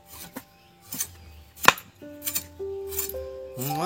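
A potato is cut on a chopping board with a handheld cutter: a handful of sharp, separate knocks and slices land at uneven intervals, close by and fairly quiet, with gaps of near silence between them.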